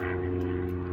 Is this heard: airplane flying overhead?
yes